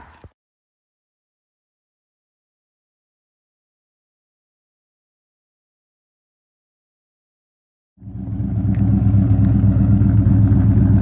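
A classic muscle wagon's engine, pulled from a junkyard, fires up after a long silence and settles into a loud, steady, rumbling idle that runs to the end.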